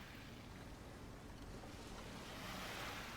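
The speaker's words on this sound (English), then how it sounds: "watching the waves as they whoosh towards you" Ocean waves wash steadily onto a shore in a continuous, fairly loud surging hiss with no voices over it.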